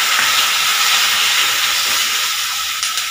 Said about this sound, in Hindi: अब हम इसमें सोया सॉस डालेंगे